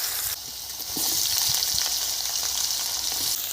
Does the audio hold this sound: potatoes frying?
yes